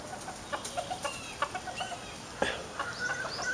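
Chickens on a small farm make soft, close clucks and short chirps in an irregular run over quiet background.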